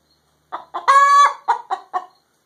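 A hen clucks loudly close by after laying an egg: a quick pair of clucks, one long drawn-out squawk, then three more short clucks, all against a silent background.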